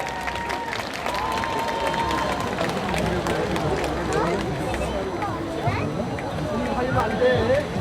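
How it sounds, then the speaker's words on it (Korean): A crowd at a student dance competition during a Korean street dance festival breaks into sustained applause and cheering, a dense, even clatter of many hands lasting several seconds, with voices mixed into the noise. "박수로 맞아시기 바랍니다"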